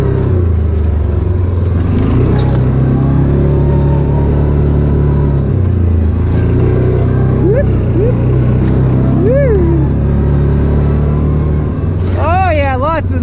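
A 2009 Yamaha Rhino 700 side-by-side drives in low gear, its engine droning steadily and loudly with shifts in pitch as it climbs and eases off, while voices talk over the ride.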